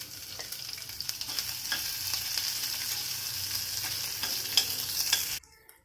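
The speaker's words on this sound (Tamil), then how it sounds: "கட் பண்ணி வச்ச பெரிய வெங்காயம் ஒன்று அதையும் சேர்த்து நல்லா வதக்கணும்" Dried red chilies and a chopped large onion sautéing in a pan for kodo millet kichadi, a close, steady sizzle broken by frequent stirring clicks and scrapes, cutting off abruptly at the end.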